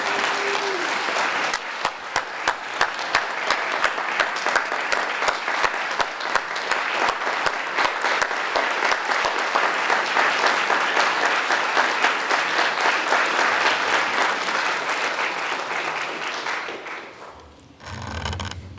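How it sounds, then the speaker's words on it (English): A warm, sustained round of audience applause at a staff recognition reception, dense and even for many seconds before tapering off near the end, with a few sharper individual claps standing out. "let's all give a warm, warm round of applause for Marilyn Polk."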